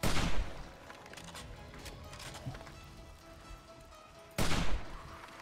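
Hunting rifle gunfire in the zombie survival game 7 Days to Die. Two loud, sharp shots ring out about four seconds apart over a busy background of in-game noise, with no voice over the shots.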